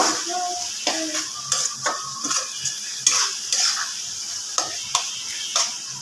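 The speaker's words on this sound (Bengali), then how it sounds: "এখন ভালো করে ভেজে নিতে হবে যেহেতু আমি মিডিয়াম আঁচে রেখে দিয়েছি আস্তে আস্তে আমি ভেজে নিব" Yoghurt chicken frying on medium heat in a pan, a continuous soft sizzle punctuated by repeated sharp scraping and stirring knocks from a utensil at an uneven rhythm.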